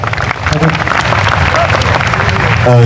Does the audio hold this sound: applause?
yes